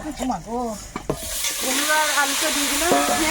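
Fish frying in a pan in a home kitchen, with a steady sizzle that swells and holds loud after the first second, under a woman's sing-song voice at the start.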